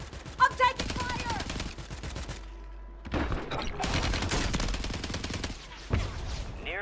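Rapid bursts of automatic gunfire in the shooter game Warzone, dense volleys broken by a short lull, with voices talking in between.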